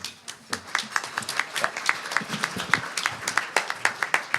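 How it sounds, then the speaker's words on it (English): An audience at a bar association candidates' debate meeting claps, a short scattered round of applause with distinct individual hand claps, fairly close and moderately loud. "Thank you, but save your applause."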